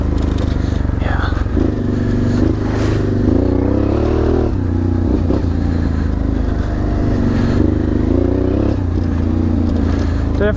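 Honda Transalp XL600V motorcycle engine on a test ride after a front suspension upgrade, a close, loud, steady drone with rising and falling revs and wind noise, continuing throughout, with talk over it.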